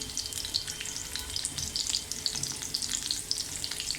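Curry leaves and finely chopped garlic frying in a pan for street-style egg bhurji, giving a dense, crackling sizzle with rapid spitting pops that stays steady and close.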